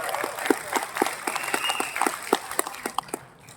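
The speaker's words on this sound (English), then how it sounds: "Can we give a round of applause to Amway?" Audience applause at an Amway leaders' event: crowd clapping with a steady, rhythmic beat of sharp claps, moderately loud throughout and fading slightly at the end.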